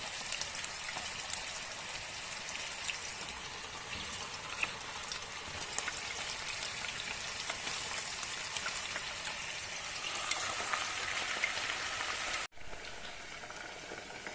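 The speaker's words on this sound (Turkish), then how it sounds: "Patateslerimizi kızartalım." A steady, dense crackling sizzle of sliced potato rings frying in hot oil, continuous and moderately loud throughout, with a brief cut near the end.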